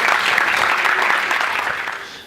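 A church congregation at a healing and deliverance service breaks into loud, dense applause, a steady wash of clapping from many hands that tapers slightly toward the end.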